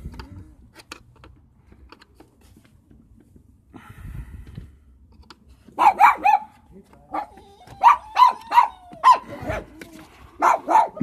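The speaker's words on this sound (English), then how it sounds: "My dog was going mad. The fact that there's a postman." A dog barks repeatedly at a postman, sharp barks coming in quick bursts of two or three, fairly loud and close, with quieter stretches and faint handling noise between.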